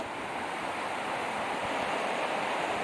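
The Hood River rushes below a pipeline bridge in Oregon, a steady broadband roar of flowing water that stays even and fairly close throughout, with no voices over it.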